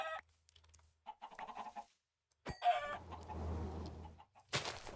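Minecraft chickens cluck in a few short, close bursts separated by brief pauses, with no talking over them.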